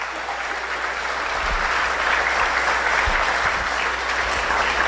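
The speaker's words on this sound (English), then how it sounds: "Let's give these folks a round of applause." A crowd applauds steadily at a chamber of commerce awards event, a dense wash of clapping that grows slightly louder and continues for several seconds without voices.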